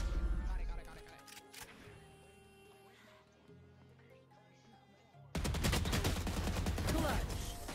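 Automatic gun spray in a first-person shooter video game, a loud dense burst of rapid fire erupting near the end after quieter game sounds and music.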